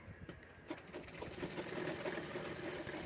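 A sewing machine stitches a patch cut from an old saree, backed with red cotton fabric for thickness, running steadily at moderate volume with a soft, continuous mechanical hum throughout.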